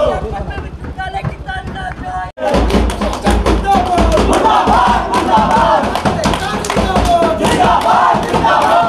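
Students protesting against their university administration in Uttar Pradesh chant slogans together, a loud, close crowd of voices shouting in rhythmic unison, briefly cut by a silent break before surging back and continuing.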